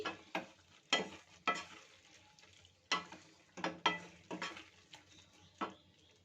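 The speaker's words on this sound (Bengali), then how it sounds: "ডিমটা দিয়েও নাড়িয়ে নিচ্ছি।" A utensil scrapes and knocks against a pan while moong dal is stirred together with scrambled egg bhurji, giving about a dozen soft, fairly regular strokes over a quiet background with a faint sizzle.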